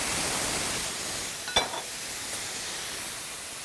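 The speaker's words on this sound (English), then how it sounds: "and then I'm going to add 1 can" A can of diced tomatoes with oregano and spices tipped into a hot pan after shrimp, a steady sizzling hiss with one brief splashy burst as the tomatoes land, then continued low frying.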